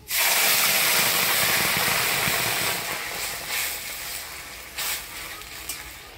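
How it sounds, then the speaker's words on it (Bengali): Boiled lafa greens dropped into hot oil with crushed, browned garlic for lafa shak pelka: a loud, sudden burst of sizzling that slowly settles into a softer, crackling hiss. "এবার সিদ্ধ করে রাখা লাফা শাকগুলো দিয়ে দিব"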